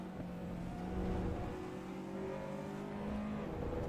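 A Honda S2000 engine in the racing game Assetto Corsa Evo, a steady moderate engine drone with rising and falling tonal whine as the car drives on, fairly quiet and without talk.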